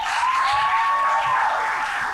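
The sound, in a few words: audience applause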